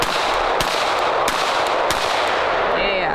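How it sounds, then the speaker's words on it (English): A SIG compensated carry pistol fires three loud, sharp shots at an even pace roughly two-thirds of a second apart, each with a brief echoing tail over steady background noise. "let's shoot some more."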